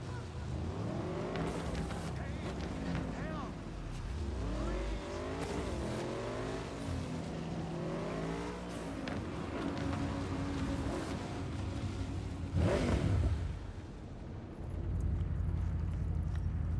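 A car in the video game Cyberpunk 2077 drives and revs continuously, engine pitch rising and falling through repeated accelerations, with a brief louder burst near the end and a deeper idle-like rumble after.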